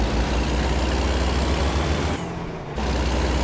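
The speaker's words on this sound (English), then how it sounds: "It does sound like I'm gunning this engine. I'm not. I'm letting the automatic transmission do its thing." A heavy truck engine with an automatic transmission in American Truck Simulator drones steadily and loudly, briefly dipping in level as it shifts before the low rumble returns at full strength.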